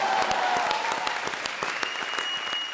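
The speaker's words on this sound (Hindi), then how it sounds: "जोरदार तालियां अर्चना जी के लिए।" Studio audience of a Hindi comedy show applauding, a steady burst of clapping lasting a few seconds at moderate loudness with a light crowd murmur underneath.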